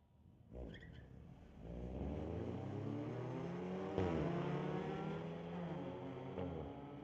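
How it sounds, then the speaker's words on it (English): Honda and BMW street cars launching side by side at a Mission Raceway Park drag strip: a brief tire chirp, then loud engines revving and climbing in pitch as they pull away, one engine droning over the other. "Honda out in front at the launch, but the Beamer going to drive around him"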